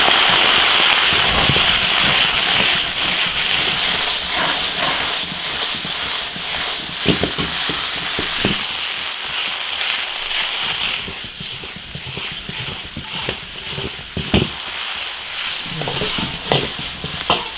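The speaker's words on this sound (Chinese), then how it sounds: "干辣椒，鸡蛋炒一下" Dried chilies and egg being stir-fried in an iron wok, a steady loud sizzle broken by sharp crackles and the scrape of a spatula, with no voices.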